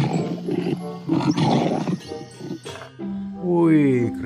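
A lion in the dinosaur park game Jurassic World Evolution 2 lets out a loud roar mixed with other game animal calls, while someone talks excitedly over much of it.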